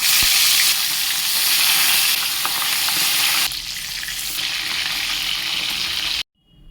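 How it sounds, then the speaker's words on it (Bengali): Pieces of bhola fish fry loudly in mustard oil, a strong continuous sizzle with faint stirring that drops a little midway and then cuts out at the end. "বাদ বাকি মাছগুলো ভেজে নেবো"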